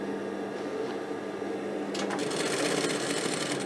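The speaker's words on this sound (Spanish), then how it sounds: "Ahí sigo cosiendo." A sewing machine stitching trouser fabric while a crotch seam is lengthened, first running quietly and then louder and faster from midway as a steady, continuous mechanical whir.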